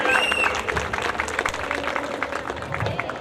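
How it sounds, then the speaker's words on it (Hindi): Audience applause for a performer at an ex-servicemen association function, a dense, steady wash of clapping from a crowd that carries on at full strength throughout. "प्लीज जोरदार तालियां एक बार आरव सिंह के लिए प्लीज।"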